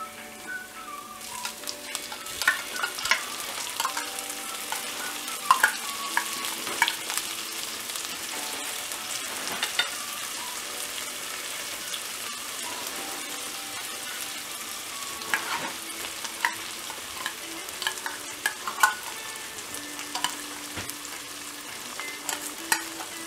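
Canned tuna stir-fried with spring onions in a pan as a tuna sandwich filling, with steady sizzling under repeated scraping and clattering spatula strokes, close and continuous throughout.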